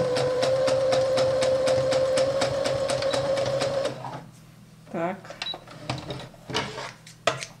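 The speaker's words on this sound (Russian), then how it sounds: "Сейчас я горловину шью." Sewing machine stitching the neckline of a doll's jacket, a fast steady run of rhythmic needle strokes with a constant whine for about four seconds, then stopping, followed by a few short handling clicks and rustles.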